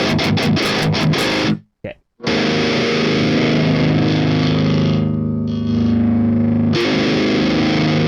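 Electric guitar played through a Jeff Loomis Devil's Triad distortion pedal, loud saturated chords with a short burst of chugging, a brief cut to silence, then long sustained distorted notes ringing out, no talking.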